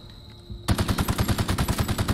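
Rapid automatic weapon fire in The Outer Worlds, a loud, steady burst of evenly spaced shots after a brief quieter lead-in, with no talking.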